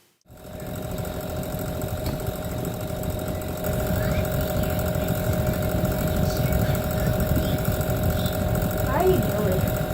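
Electric fan running noisily indoors, a steady close mechanical drone with a rough rattling texture that continues throughout.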